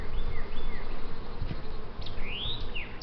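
Honeybees buzz in a close, steady drone while a hive is being split, with faint bird chirps in the background and no talking.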